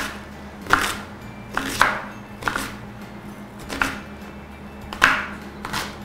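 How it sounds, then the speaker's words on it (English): A knife roughly chopping a medium onion on a cutting board, six sharp, distinct knocks spaced unevenly about a second apart, close and clear over a quiet kitchen background. "I have a medium onion here, so I'm just going to roughly chop it up"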